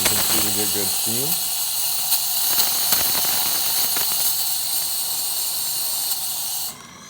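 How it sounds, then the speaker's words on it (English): Steam wand on a DeLonghi Magnifica espresso machine, just serviced, gives a loud, steady hiss that runs unbroken for nearly seven seconds and then cuts off abruptly near the end. "Get good steam."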